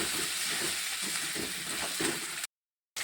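Onion, garlic and ginger paste sautéing in a hot pan, a steady close sizzle and hiss with faint stirring scrapes, then cutting off abruptly into silence near the end.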